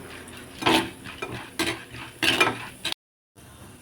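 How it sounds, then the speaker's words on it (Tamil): Onions tipped into chana dal frying in a pan for a spicy kulambu, giving three clattering bursts of utensil scraping over a faint sizzle, then a brief silence. "இப்போ வந்து கடலப்பருப்பு செவந்துடுச்சு வெங்காயத்தை போட்டுக்கலாம்"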